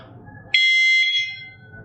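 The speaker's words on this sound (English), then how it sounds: "This will beep every 10 seconds while the dog is in motion" A single loud electronic beep from a Petrainer PET910 dog training collar, a high steady tone lasting about half a second, then fading, with faint background noise before and after.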